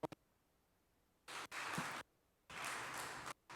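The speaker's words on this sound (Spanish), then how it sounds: "Vamos a darle un fuerte aplauso al Señor" Two bursts of applause from a church congregation, each lasting under a second, separated by brief quiet gaps with a few isolated claps.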